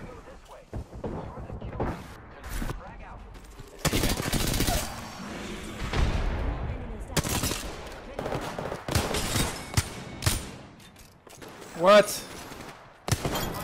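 Gunfire in the video game Apex Legends, loud bursts of shots and rapid volleys cracking out repeatedly across the clip, with brief spoken words between them.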